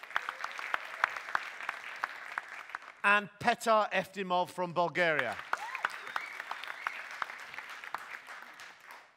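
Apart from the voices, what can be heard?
audience applause for finalists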